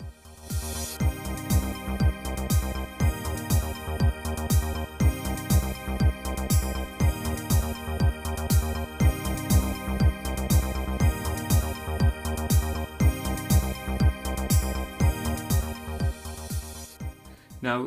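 Roland JD-Xi synth backing track for a cover song, the bridge section, a steady pulsing synth bass and drum beat with sustained pads, playing alone at a moderate level.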